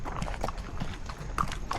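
A horse walks with its hooves clip-clopping in a steady, faint rhythm, a few sharper hoof strikes standing out over low background noise and occasional quiet voices.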